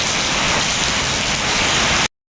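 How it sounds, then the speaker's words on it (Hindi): Heavy rain driven by wind pours down in a dense, even hiss, loud and close, with no voices, for about two seconds before it cuts off. "अगेन बारिश शुरू हो गई, ये ना बहुत तेज़ हो रही है, हवादार बारिश हो रही है"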